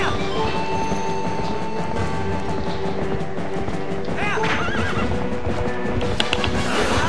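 A horse neighs and whinnies loudly in The Legend of Zelda: Twilight Princess, over steady clip-clopping hooves and dense game sound, with a sharp hit near the end.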